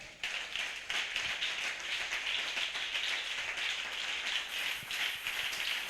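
Members of a church congregation clap in acclamation, a busy, continuous patter of many hands at moderate volume that stays steady from start to finish.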